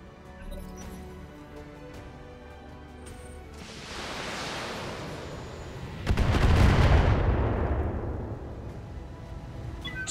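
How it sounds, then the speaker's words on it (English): Heavy weapons fire in the mech combat game BattleTech: low rumbling blasts swell into a loud, roaring barrage of impacts and explosions that builds and sustains toward the end, with no talk. "I'm under heavy fire."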